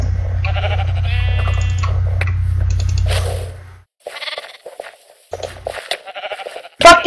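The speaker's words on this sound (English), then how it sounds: "we have two fucking sheep" Sheep bleating in Minecraft during gameplay: several short, close bleats scattered over a low continuous hum, with game clicks and pauses in between.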